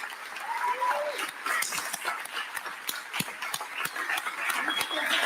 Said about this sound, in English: So please make sure you give her a big round of applause.